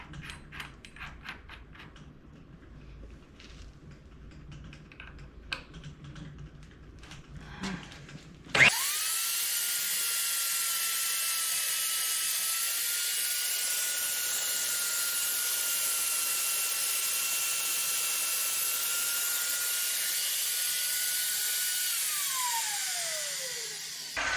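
Faint clattering and handling noises, then a loud power drill whirs steadily for about fifteen seconds drilling a pilot hole in a Toyota truck frame, its pitch dropping as it winds down.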